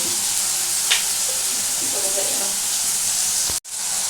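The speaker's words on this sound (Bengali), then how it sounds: "পেঁয়াজটা ভাজতে ভাজতে আমি আমাদের টমেটো দিয়েছি" Onion and tomato frying in a pan for a banana-flower kofta curry, a steady broad sizzle throughout with a few stirring scrapes, cutting out briefly near the end before resuming.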